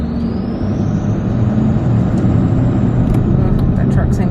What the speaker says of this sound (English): That truck seems close to me.